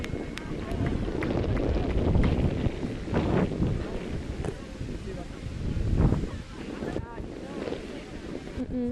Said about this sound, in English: Gotten so much windier.